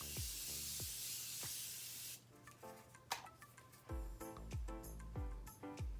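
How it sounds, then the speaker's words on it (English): A long hissing burst of Morphe Continuous Setting Spray misted onto a face comes first, then softer taps and light clicks follow in a quiet setting. "I spray my face with my favorite setting spray"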